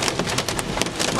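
Hail battering a car during a storm chase, a dense, continuous broadband clatter of impacts on the vehicle, loud and close with sharp irregular hits standing out from the steady roar.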